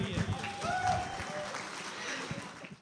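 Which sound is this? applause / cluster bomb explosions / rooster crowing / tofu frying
applause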